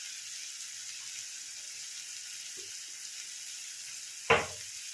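Pumpkin and shrimp curry with garlic stir-frying in a pan, a steady soft sizzle broken by a faint scrape and one loud sharp knock of the spatula near the end.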